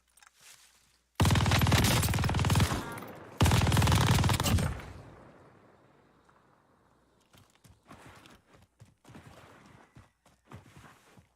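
MG42 machine gun in Call of Duty Warzone rips out two long, loud, continuous bursts close by, then its echo fades, followed by scattered softer footstep-like clatter.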